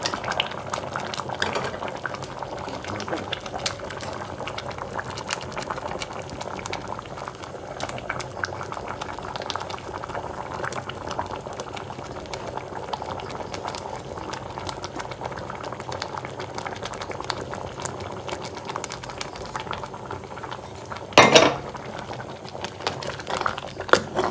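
A pot of coconut-based mango curry bubbles at a steady boil, a continuous soft gurgle with a brief metallic clink near the end and no talk.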